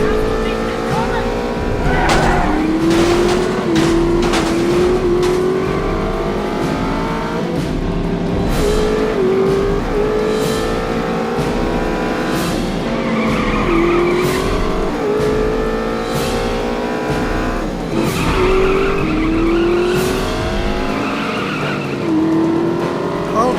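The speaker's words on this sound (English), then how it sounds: "How is that car just as quick as a sports racing car?" In The Saboteur video game, a car races with its engine loudly revving and shifting, and its tires squeal and skid repeatedly across a long, continuous stretch of driving.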